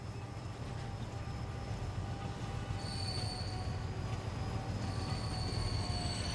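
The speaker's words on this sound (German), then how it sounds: "dann haben wir jetzt einen echten Zug." A train rolls along the line in the rail simulation game Transport Fever 2, giving a steady low rumble with faint high wheel squeal and tonal whines over the full stretch, with no talk.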